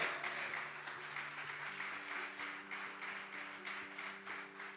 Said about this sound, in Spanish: Dale un aplauso al Señor, porque Él vive